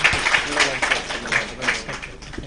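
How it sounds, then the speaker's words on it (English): Brief audience applause at a live charity event, a moderately loud wash of clapping with murmuring voices mixed in. "Big round of applause."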